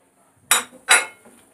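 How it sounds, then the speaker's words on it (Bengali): Two sharp metal-on-bowl clinks of a spoon mixing eggless fruit cake batter, close and fairly loud, followed by a fainter third tap; no voices. "এইবারে আমি এগুলো দিয়ে আরেকটু ভালো করে মিশিয়ে নেব।"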